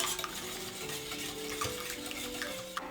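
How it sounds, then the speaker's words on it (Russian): Thin pancake batter with vanilla sugar is mixed in a bowl: quick, continuous scraping and swishing strokes close up, with faint clinks from the utensil and no voices. "И сейчас все хорошо смешиваем до однородности"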